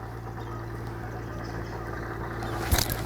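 A tractor engine drones steadily at a distance, a low continuous hum with a brief knock near the end, at Barton next to Birmingham Airport.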